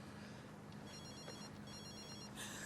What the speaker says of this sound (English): Is that your phone? Don't you want to answer it?